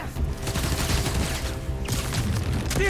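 Rapid bursts of gunfire in the PS5 game Spider-Man: Miles Morales, loud and continuous, layered with booming impacts and other game action.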